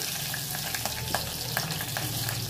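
Green chillies hit hot oil in a pan while cooking coconut rice, giving a steady close sizzle and crackle with occasional stirring scrapes and no talking.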